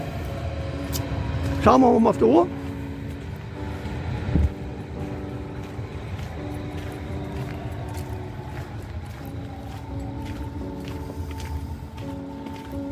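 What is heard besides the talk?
Berlin S-Bahn train passing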